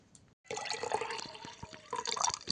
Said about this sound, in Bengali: এটা আমরা ছেঁকে নিচ্ছি।